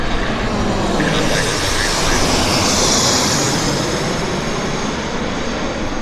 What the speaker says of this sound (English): No, it's a BizJet of some type.